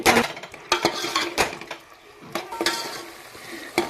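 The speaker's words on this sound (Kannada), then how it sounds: "ಸೊ ನೆಕ್ಸ್ಟು ಟೊಮ್ಯಾಟೊ ಹಾಕಿ ಚೆನ್ನಾಗಿ ಫ್ರೈ ಮಾಡಿಕೊಳ್ಳುತ್ತೇನೆ." Onions and tomatoes being fried together in a pan, heard as a spatula clattering and scraping against the metal in several sharp bursts over a faint, low sizzle. The sound is close and there is no talk.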